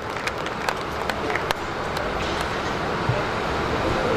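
Audience clapping for a poet at a Hindi comic poetry gathering in Behror, a steady dense patter from a crowd with a few sharper claps standing out, moderately loud and sustained.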